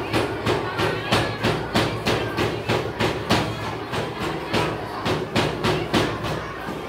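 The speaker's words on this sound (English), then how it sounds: "I have a hammer and this aluminium foil. You have to observe it carefully. See, I am beating." A hammer strikes aluminium foil repeatedly to flatten it, giving a steady run of sharp, evenly spaced metallic taps at close range, about two per second, with a bright ring on each blow and no talk over them.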